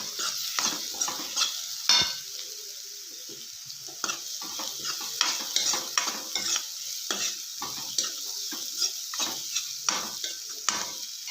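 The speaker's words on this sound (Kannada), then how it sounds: "2-3 ನಿಮಿಷ ಕಡಲೆಬೇಳೆ ಚೆನ್ನಾಗಿ ಹುರ್ಕೊಳ್ಳೋಣ. ಇವಾಗ ಅರಿಶಿನ ಪುಡಿ ಹಾಕ್ಕೊಳ್ಳೋಣ. ಚೆನ್ನಾಗಿ ಮಿಕ್ಸ್ ಮಾಡ್ಕೊಳ್ಳೋಣ." Chana dal with turmeric being stirred and roasted in a pan for a North Karnataka green chilli chutney, with a soft sizzle under repeated scraping strokes of a spoon against the pan, close and steady.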